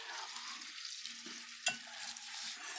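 Flour is whisked gradually into melted butter for a roux, a soft continuous sizzle and faint whisk movement with one sharp clink midway, fairly quiet and close.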